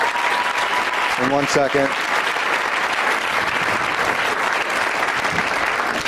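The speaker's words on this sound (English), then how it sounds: "Give yourself a round of applause for coming out." Audience at a clean stand-up comedy show breaks into steady, sustained applause filling the room, with a comedian's voice briefly heard over the clapping near the start.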